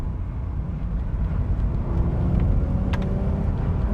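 A Mk1 Audi TT V6 with Quattro all-wheel drive accelerates on a wet road, its engine a steady low rumble that builds slightly in strength toward the end, heard from inside the car with no talk.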